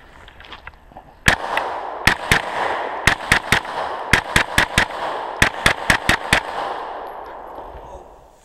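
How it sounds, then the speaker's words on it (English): A Smith & Wesson M&P CORE pistol fires about fifteen sharp, loud shots in a drill at targets five yards away, grouped in quick bursts of one to several rounds with short pauses, and a ringing outdoor echo trails behind them. "I'm going to shoot it without a timer once or twice just to try to go smooth"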